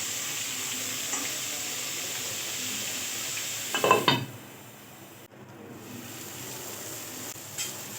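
Chopped sweet pumpkin fries with onions and panch phoron in a pan, giving a steady, close hiss that briefly flares with a clatter, then drops to a quieter simmer.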